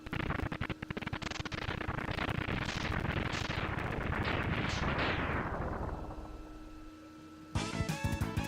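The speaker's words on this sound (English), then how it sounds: "this explosion is taking a while" Boss explosion from the Mega Man X2 video game: a loud, rapid string of repeated booming blasts that fades out near the end, then gives way to bright electronic game tones.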